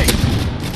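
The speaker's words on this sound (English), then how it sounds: "Friendly airstrike on the way!" An airstrike in a shooter video game lands as a brief, loud, rumbling boom that fills under a second.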